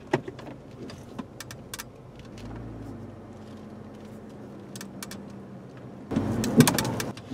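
Chevrolet Trailblazer suspension knocking over bumps from the left front, heard from inside the cabin as scattered sharp clunks and rattles over a low road rumble, growing louder and busier near the end.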